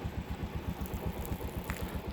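A vehicle engine idles nearby as it pulls up, making a steady low pulsing throb with even rhythmic beats and no voices over it.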